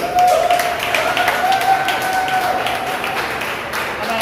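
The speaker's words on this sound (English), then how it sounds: "I want to give him a round of applause" An audience claps through a round of applause at a Morant Bay High School alumni gathering. The clapping is dense and steady, a sustained wash with a faint tonal ring over it, and a voice may be heard beneath.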